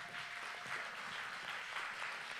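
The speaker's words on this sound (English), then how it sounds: "So would you give this team a huge clap?" Audience applause for a team at a church gathering, steady broadband clapping from a crowd filling the room for a couple of seconds, with no voices over it.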